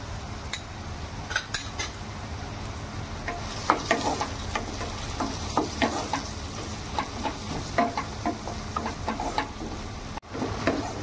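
Onion and tomato fry steadily in a pan with a pinch of asafoetida and turmeric, a continuous crackling sizzle broken by frequent clinks and scrapes of a stirring spoon against the metal, close and fairly loud throughout.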